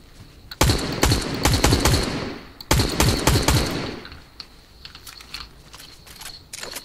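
Fortnite gunfire comes in two dense, loud bursts of rapid automatic shots, followed by quieter scattered shots and clicky sounds from a keyboard.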